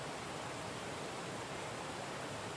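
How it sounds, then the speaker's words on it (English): A waterfall and flowing water in the first-person adventure game Fabled Woods: a steady, even rush of falling water with no breaks, fairly soft and continuous throughout. "I can hear the water to my left and the dropping water to my right."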